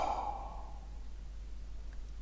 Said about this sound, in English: Let's have a yawn and a stretch.